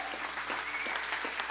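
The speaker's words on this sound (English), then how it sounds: "give our online audience a big, big, big round of applause right now" Steady applause from an audience, a dense patter of many hands clapping continuously.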